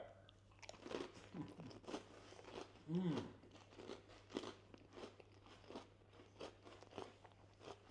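Crisp crunching bites into smoked mackerel pâté finger food, a run of close, sharp chewing crunches in quick succession, one louder bite standing out, with faint voices in the background.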